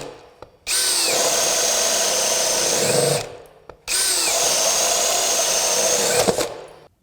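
A DeWalt Atomic compact 20V brushless 1/2-inch drill/driver running at high speed bores into wood with a 1.25-inch spade bit. Two loud, sustained whirring bursts of about three seconds each are separated by a short pause.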